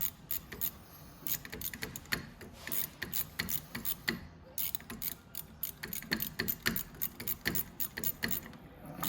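Rapid ratchet clicks come up close as bolts are tightened on the engine of a Venom 125cc mini jeep, in bursts of steady ticking with brief pauses between strokes.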